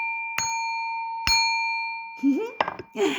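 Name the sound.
chime rung to open a tarot reading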